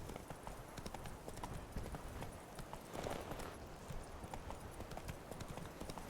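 Roach the horse in a video game, hooves clip-clopping in a steady trotting rhythm, close and clear over a busy background of ambient game sound.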